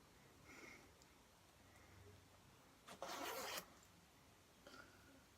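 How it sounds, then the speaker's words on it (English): A jacket zip is pulled up in one quick, loud rasping stroke lasting about half a second, set against a quiet room with faint rustling of clothing before and after. "And you zip it up again."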